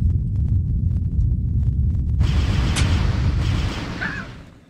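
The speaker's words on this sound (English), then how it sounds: "What's with the after explosions?" Explosions in the video game Ultima IX, deep rumbling booms that roll on continuously, followed by a brighter burst and crackle near the end before fading out.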